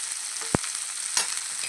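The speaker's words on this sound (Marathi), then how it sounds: "छान असं आपल्याला परतून घ्यायचं आहे बघा आणि हे लगेच भाजतं हे" Radish pods (mogri) being stir-fried in a pan as a simple dry fry: a faint, steady sizzle with a couple of brief utensil knocks, no voices.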